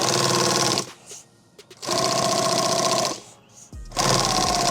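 A sewing machine runs in three fast, steady bursts with short pauses between them, loud and close, hemming a fold of 1000 denier Cordura into three layers for a rifle magazine bag.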